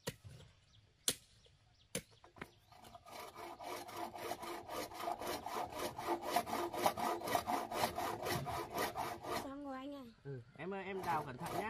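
Hand saw cutting through wood outdoors: a few sharp knocks, then steady rhythmic back-and-forth rasping strokes, close and fairly loud, with people speaking briefly near the end.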